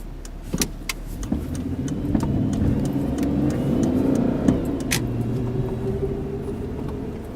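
A 2001 Chrysler Sebring accelerating hard from inside the car, the engine rumbling and rising in pitch over several seconds, with a few sharp clicks and knocks early on and no talking.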